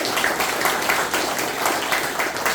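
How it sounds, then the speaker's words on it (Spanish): A church congregation claps loudly and continuously throughout, a dense wash of applause with a pulsing rhythm and no clear talk over it. "Denle un fuerte aplauso a Jesucristo"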